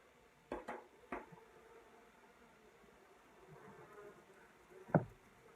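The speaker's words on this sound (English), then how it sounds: "there's a lot of bees clustered up right here" Honeybees clustered in an indoor aquarium hive give a faint, low, continuous buzz, broken by a few sharp knocks and a brief louder tap near the end.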